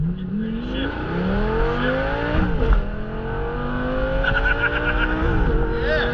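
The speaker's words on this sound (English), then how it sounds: "Now smash the gas as hard as you can." A 2008 Lamborghini Gallardo or 2010 Ferrari 458 Italia makes a launch-control start, its engine revving loudly and rising in pitch through the gears, with tire squeal as it pulls hard and close.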